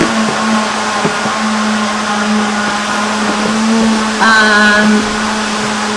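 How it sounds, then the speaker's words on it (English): A kitchen blender whirs steadily while making a smoothie, a loud continuous motor drone that shifts pitch briefly near the end as the load changes. "just wait for the blender to be done. We're making a smoothie."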